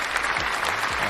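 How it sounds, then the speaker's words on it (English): A crowd claps and cheers in continuous dense applause, steady and fairly close, with no talking over it. "we need crowd applause for that"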